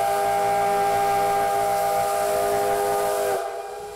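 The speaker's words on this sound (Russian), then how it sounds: "Уникальный поезд, выпуская пар из-под колес и густой дым прямо в небо, громко и торжественно занял свое место." The retro steam train Pobeda lets out a loud, sustained steam whistle and hiss as it arrives at the station, steady and close before cutting off near the end.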